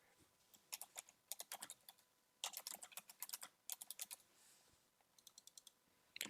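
Bursts of crisp key clicks from a computer keyboard, typed in quick uneven runs separated by short pauses, close and fairly quiet with no talking.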